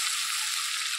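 Garlic and green chillies frying in oil and butter in a pan, a steady, close, even hiss of sizzling that holds at one level throughout.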